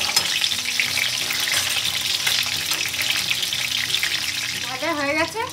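Chicken pieces frying in hot white oil in a wok, a loud, continuous close crackling sizzle with some stirring as the pieces are turned over.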